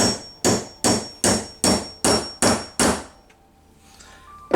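Hammer striking a punch to set a 7/32 rivet on a pinball playfield, seven loud, evenly spaced metallic blows close up, then a quiet pause with faint handling noise.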